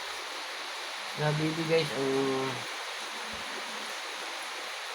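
Steady, even rain hisses softly throughout, heard from inside a room at bedtime, with a brief spoken voice in the middle.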